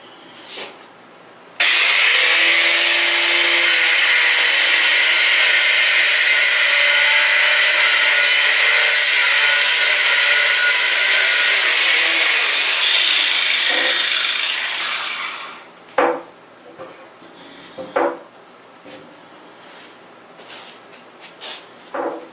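Cutoff wheel on a power tool grinding steel while a welding table is repaired, a loud continuous high whine that starts abruptly, holds for about fourteen seconds, then winds down into scattered clanks and knocks.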